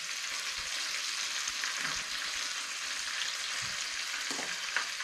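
Carrots, cabbage and potato hit a hot pan with browned onions and pork, giving a steady, close, broadband sizzle and crackle that runs unbroken throughout, with faint stirring scrapes and no voices.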